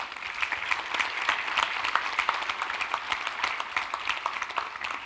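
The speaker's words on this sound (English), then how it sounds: "Ladies and gentlemen, they deserve a huge round of applause." Steady applause from the audience at a 2022 convocation ceremony: dense, sustained clapping from many hands, evenly loud throughout with no voices over it.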